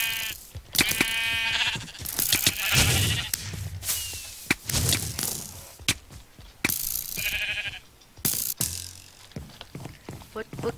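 Sheep bleating repeatedly in a video game, loud and close, mixed with clicks and mechanical in-game sound effects, and a voice talking in between.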